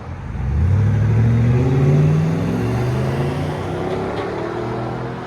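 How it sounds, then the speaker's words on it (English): A deep Chevy Silverado SS 6.0L V8 engine revs hard through an aftermarket exhaust, rumbling, rising in pitch then settling into a steady loud drone, close by. "They see me recording, they start revving."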